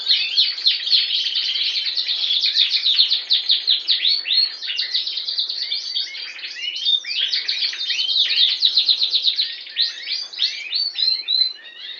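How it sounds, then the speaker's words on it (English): A green buff Border canary cock sings a long, continuous, loud run of rapid trills and chirps, close and clear with no voices. "This bird was bred off stock from PHILWARNE, coupled with Wolmarans' old birds"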